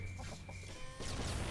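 Chickens in the video game Bomb Chicken cluck in quick bursts over a steady electronic game tone, followed by a louder burst of noisy game effects.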